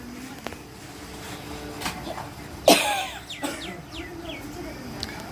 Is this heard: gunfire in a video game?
no